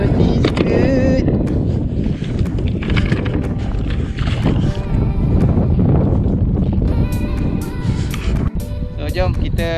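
Wind gusts across open sea during kayak fishing off Malaysia, buffeting the microphone with steady rough roaring throughout, while a person talks over it.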